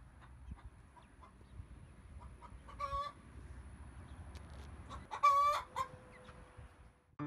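A chicken clucks softly in short scattered bursts, with a couple of louder squawking calls, close by in an otherwise quiet setting.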